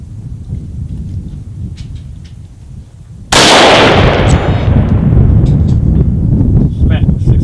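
A rifle fires Black Hills 77 grain OTM factory-second ammunition in a single sharp, loud shot that cuts through steady rain and wind noise and leaves a long rolling echo.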